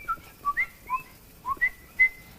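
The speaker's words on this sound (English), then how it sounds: "A lone coqui, and then another one will respond because it's a mating call." Repeated two-note chirping calls of coqui frogs, a lone caller answered by others in a mating chorus, sounding as clear whistle-like notes spaced roughly every half second, fairly near against quiet night background.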